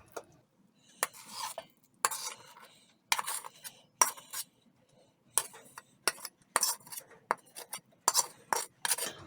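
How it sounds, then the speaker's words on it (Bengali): Thick kalakand milk mixture is scraped and poured onto a ghee-greased plate, a series of sharp metallic spoon-on-plate clinks and scrapes in irregular bursts with quiet gaps between. "আমি একটা প্লেটে ঘি লাগিয়ে নিয়েছি এটাতে এখন ঢেলে দেবো"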